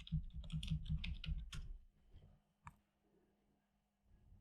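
A short flurry of quick computer keyboard clicks as a search is typed, close and soft, then a single louder tap and near silence.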